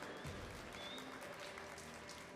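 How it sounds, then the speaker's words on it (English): Crowd applause at a youth cattle show, a dense, steady wash of many hands clapping at moderate distance, continuing evenly throughout. "Let's give them a round of applause for these three."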